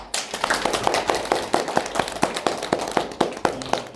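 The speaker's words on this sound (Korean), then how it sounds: "큰 박수 부탁드리겠습니다" Audience clapping as a speaker walks on stage at a corporate lecture in Korea, sharp separate hand claps in a quick, fairly regular rhythm, close and distinct rather than a dense roar.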